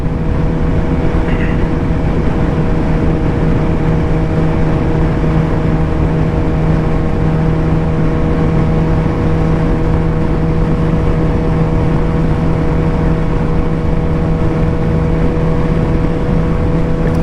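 A Suzuki GSX-R 750 motorcycle engine drones steadily and loudly throughout as another rider comes up from behind, a constant hum with no pauses.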